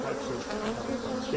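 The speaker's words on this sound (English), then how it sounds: "Warmer weather means the bees are buzzing, a telltale sign that swarm season is coming." Bees buzz steadily in a dense, continuous hum, close and fairly loud, with no other sounds.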